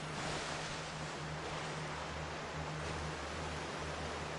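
Ocean waves wash steadily around a sailing ship at sea in Like a Dragon: Pirate Yakuza in Hawaii, a soft, even surf hiss with faint wind and no talking.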